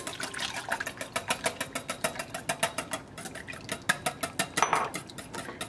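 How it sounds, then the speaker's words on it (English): Egg being beaten with melted butter for a blueberry peach pudding cake, a whisk clicking rapidly and steadily against the bowl in a quick even rhythm, close and clear with no talking. "I'm going to beat an egg, whisk in ½ cup of melted butter"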